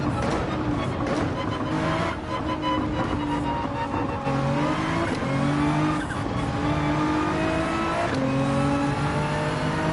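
A race car engine revs hard in Gran Turismo 7, a loud continuous roar rising and falling through gear changes as the car powers around the track, with faint tire noise underneath.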